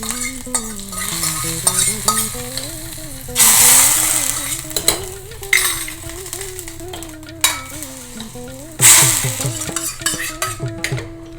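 Mustard seeds, fenugreek, a dried red chilli and curry leaves crackle in coconut oil in a kadai, with loud spitting bursts near the start and end over a steady sizzle and a melodic voice or music running underneath.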